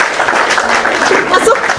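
Brief burst of applause for Bang Erka during a religious discussion, a dense, steady clatter of clapping from a small audience with voices talking over it.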